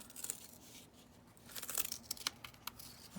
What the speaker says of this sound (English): I'm just gonna go ahead and try to peel this off here